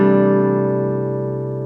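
A jazz guitar line closing on the sharp 9 of a dominant chord, a single sustained chord tone ringing clearly and slowly fading over under two seconds, with no talk.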